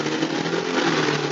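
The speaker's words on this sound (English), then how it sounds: "Traffic. I love traffic." Passing traffic roars nearby as a car engine sweeps by, a loud, broad continuous whoosh lasting about a second and a half, with no talk over it.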